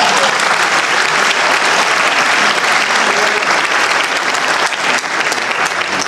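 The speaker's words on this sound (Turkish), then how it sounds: "Burada alkış var." An audience applauds in a hall with dense, sustained clapping that stays loud and close throughout and eases slightly near the end.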